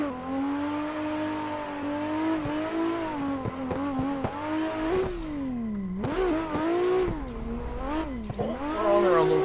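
A car in the Assetto Corsa racing game drives a drift track and runs over rumble strips, its engine note rising and falling loudly with rapid buzzing pulses and tire noise, no voices.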